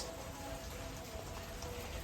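Steady rain pours outside a house at night during a family Ganpati visit, a dense, even hiss of drops that holds constant throughout with no voices.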